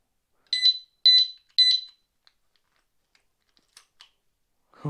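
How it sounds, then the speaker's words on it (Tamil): Three sharp, high-pitched electronic beeps in quick succession from a bicycle disc lock alarm, followed by faint clicks and a brief low thump, otherwise quiet. "உள்ளே இருக்கிறது கொஞ்சம் நகர்ந்தாலும் அலாரம் அடிக்க ஆரம்பிச்சிடும்"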